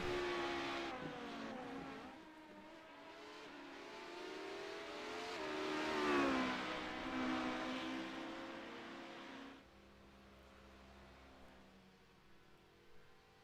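Race cars on track in the Legacy Sports Car Series, a single engine note climbing and falling through gear changes as a car passes, fairly distant and muffled, then a quieter steady drone at the end.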